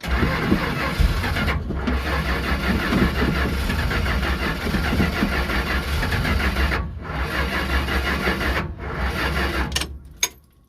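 A 1970 Dodge Charger with a 413 V8 runs loud and close with a rough, uneven idle. The sound briefly drops out a few times and cuts off near the end.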